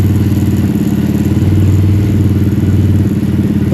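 A Honda CRF300L motorcycle engine runs close and steady with a low, throbbing idle-like drone, shifting down through the gears with slight changes in pitch and some mechanical clatter.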